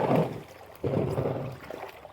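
Floodwater rushing out through a garden gate opened like a small dam, a steady broadband gush of moving water that surges louder partway through and keeps flowing close by.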